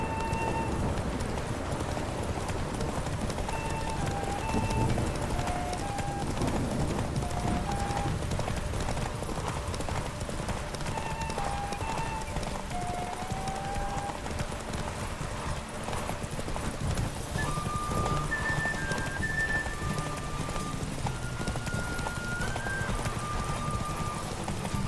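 Witcher 3: Wild Hunt horse Roach at a gallop, continuous hoofbeats under a constant music bed, steady and moderately loud throughout.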